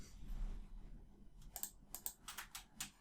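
Typing on a computer keyboard: a short run of quick, close key clicks in the second half, under a low background hum.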